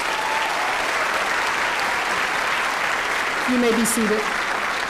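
Sustained applause from a large audience at a high school graduation ceremony, a dense steady roar of clapping with a voice speaking over it near the end.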